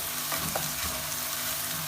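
Spring onions sauté in hot oil in a pan for a radish paratha filling, giving a steady close sizzle broken by a few soft stirring scrapes.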